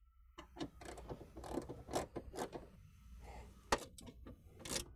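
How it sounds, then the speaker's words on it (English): Bolts being removed from the stock airbox of a 2001-04 GM Silverado 2500HD 6.6L, heard as a series of sharp metallic ratchet clicks and clacks with gaps between, close up over a low steady hum. "So let's go ahead and remove all these bolts"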